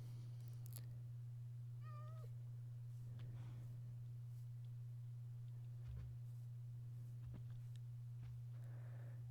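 A cat in the Minecraft video game meows a couple of short, faint times over a steady low hum, with quiet rustling in between.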